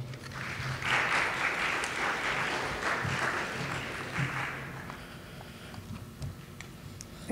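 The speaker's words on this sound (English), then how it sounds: "Let's give her a round of applause as she comes to the podium." An audience at a college coronation ceremony applauds as a speaker walks to the podium, a dense, fairly loud clapping that swells early and then thins out to scattered claps.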